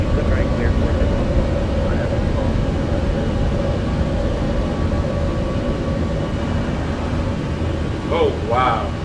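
Airbus A320 taking off and climbing in Microsoft Flight Simulator 2024, a loud, steady jet engine roar filling the whole clip with a constant hum, while faint voices come through near the end.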